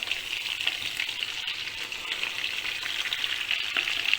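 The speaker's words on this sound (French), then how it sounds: "وغنحطو الفخيضات ديالنا يتقلاو" Chicken thighs fry in oil, butter and crushed garlic, giving a steady close sizzle and crackle with small pops throughout.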